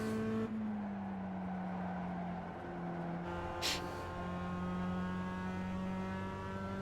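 A Mazda race car laps the Zolder circuit, its engine droning steadily in a tone that shifts across gear changes, heard from inside the car as one continuous close roar with a brief hiss partway through.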